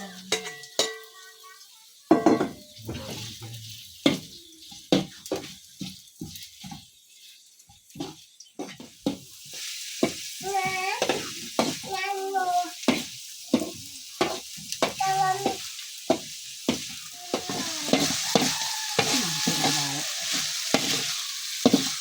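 Rat meat stir-fried with basil and shallots in a pan, sharp sizzling bursts and spatters with repeated clanks and scrapes of stirring, close and irregular, with a voice talking at intervals over the cooking.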